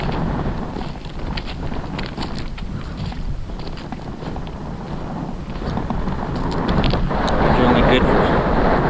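Strong wind blowing across a rooftop beside a clam shelter and a satellite antenna during a windstorm, a loud continuous roar with gusty buffeting of the microphone that swells louder toward the end.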